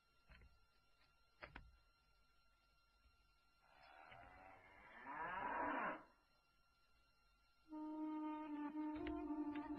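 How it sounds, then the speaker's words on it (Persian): A cow lets out a long, drawn-out moo in a quiet rural setting. It is followed by a steady, sustained tone, with a couple of faint knocks before it. "مادر جان، این آخرین گاومون است."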